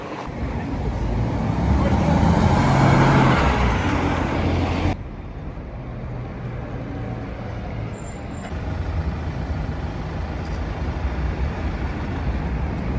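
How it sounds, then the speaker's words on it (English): Cork-bound coach at Dublin Airport, a loud hiss of air brakes and engine rumble nearby that then settles into quieter steady roadway traffic noise. "There's the Cork bus."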